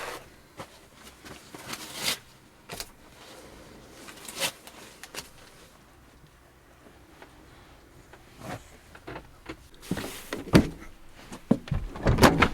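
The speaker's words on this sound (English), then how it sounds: "Heavy door." A heavy camper van door is worked several times, with sliding rumbles and loud thuds spread across the stretch and a cluster of harder knocks at the end.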